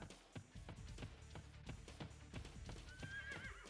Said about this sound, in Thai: ข้างล่างผมมีม้าอยู่